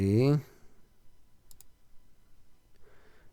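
Two quick mouse clicks sound close together while browsing LG OLED TV listings on an electronics retailer's website, coming just after a brief burst of speech and followed by a faint later murmur.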